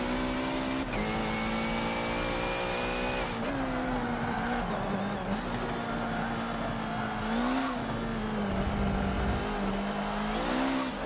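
Race car in Forza Motorsport 7 powering through tricky corners, a loud continuous engine drone that dips under braking and climbs again as it accelerates out of each turn, with faint tyre noise and no talk.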